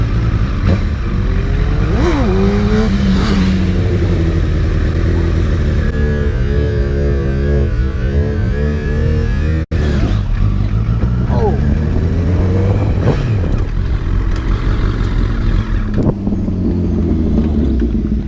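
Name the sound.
motorcycle engine revving at full throttle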